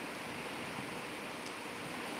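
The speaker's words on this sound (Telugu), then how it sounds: "అసలు వర్షం సౌండే ఫుల్ వస్తుంది" Heavy rain pouring during a village monsoon downpour in June, a steady, dense, even hiss with no break from start to finish.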